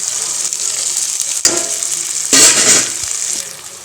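Cooked cowpeas being stirred into tomato masala frying in a pan, a steady hiss of sizzling that swells into a louder burst of frying partway through, close up, with no talking.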